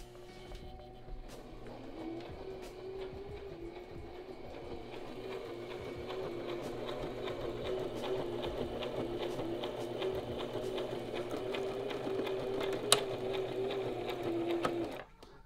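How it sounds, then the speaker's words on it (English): A sewing machine stitches a clothing label with a close, continuous mechanical whir that holds steady and grows slightly louder throughout, then stops abruptly at the end. "Sewing is a lot easier than I thought it was"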